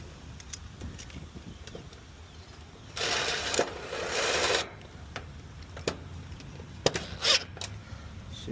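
A power screwdriver drives screws to mount a capacitor in an AC unit, giving one sustained whirring burst of about two seconds amid scattered clicks and handling knocks, close and fairly loud.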